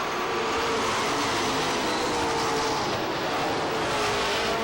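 Pro stock cars roar past on the backstretch of Lee USA Speedway during a 100-lap feature, a dense, loud, continuous engine wash that holds steady for the whole stretch with no voices.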